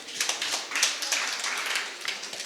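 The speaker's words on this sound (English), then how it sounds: "Let's clap for them once again." An audience claps for presenters at the close of a talk on affordable housing in informal settlements, a dense, steady patter of many hands at moderate loudness lasting throughout.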